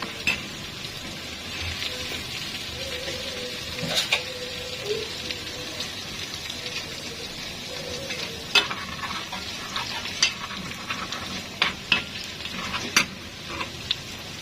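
Dry coriander frying in a pan for khobeiza, a soft continuous sizzle with a spoon stirring and clinking against the pan in scattered sharp taps.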